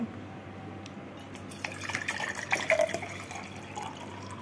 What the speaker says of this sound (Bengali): পানি ভরতেছি